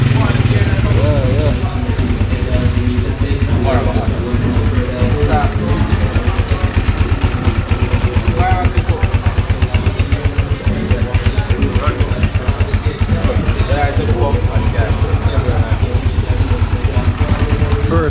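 A brand-new 250cc Rebel T Special Edition motorcycle engine runs loud and close, its steady low rumble swelling into revs for the whole stretch while voices talk over it.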